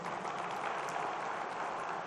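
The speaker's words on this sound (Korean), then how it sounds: "박수" Church congregation applauding during a Korean sermon at Jungmun Church, a steady dense wash of clapping from many hands held at an even level throughout, with no voices standing out.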